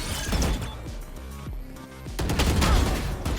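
Gunfire and impacts ring out in a first-person shooter video game, with bursts of shots and crashing hits over game sounds, loud and close.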